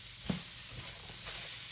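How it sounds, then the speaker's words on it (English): Garlic sizzles in a pan on an electric stove for an oil-free stir fry, with a soft, steady frying hiss close by and faint scraping of a utensil now and then. "The garlic is getting nice and toasty."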